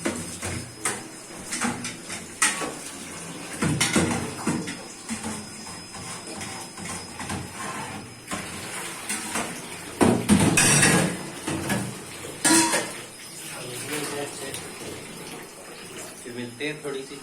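Running water splashes and sloshes while a metal milk container is scrubbed and rinsed, with clinks and handling knocks; a person talks intermittently over it.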